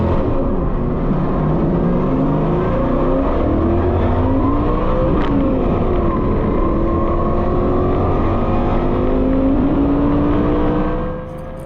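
A land speed race car launches from the starting line at El Mirage dry lake, its engine roaring loud and close as it climbs steadily through the revs for about ten seconds.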